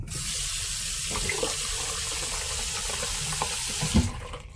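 A cruise ship cabin tap runs steadily with a constant hiss of water splashing into a sink, close by, then cuts off near the end.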